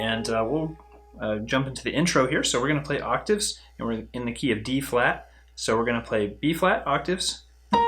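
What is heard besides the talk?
No everyday noise stands out behind the speech.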